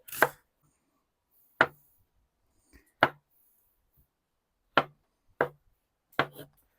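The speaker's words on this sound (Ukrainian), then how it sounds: "Зараз нарубаємо цибулю" An onion is chopped with a knife on a board in six sharp, well-spaced chops with quiet gaps between them.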